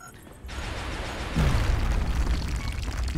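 A bomb blast in a sci-fi strategy video game lands as a sudden deep boom, followed by a rumbling, crackling tail that stays loud to the end.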